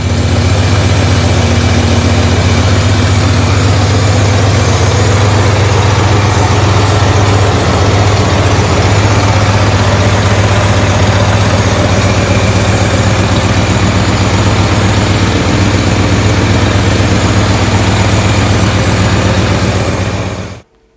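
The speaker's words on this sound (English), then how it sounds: "Sounds like there's a nice little vacuum leak going on too." A steady, rumbling 1979 Ford F250 Super Cab pickup engine with a vacuum leak idles nearby for a long stretch with a faint hiss in the background, then cuts off abruptly at the end.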